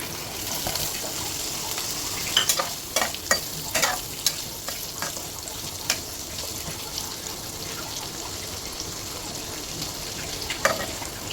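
Paneer cubes fry in hot ghee in a pan over a low flame, giving a steady, close sizzling hiss broken by several sharp clinks and scrapes of stirring.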